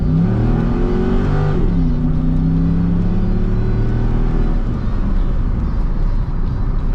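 A 2001 Chevrolet Corvette C5's 5.7-litre American V8 revs loudly and close, with a deep throaty rise, a brief dip and a sustained strong drone that fades into a rough rumble.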